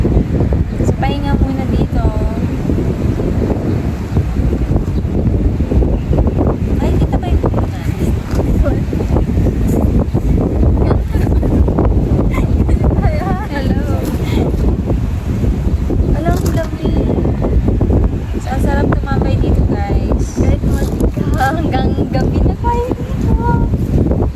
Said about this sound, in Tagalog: mahangin kasi kaya gumagalaw-galaw